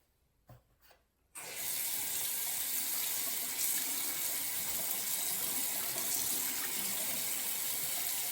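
A tap turned on to rinse dusty parts from a 1980s dehumidifier, a few faint knocks and then a sudden steady gush of running water that pours on loudly and continuously.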